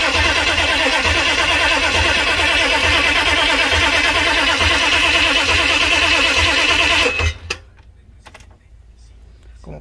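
A 1999 GMC with a 6.5 Detroit diesel engine cranks loudly and rhythmically for about seven seconds without firing, then the starter cuts off, leaving a quiet tail.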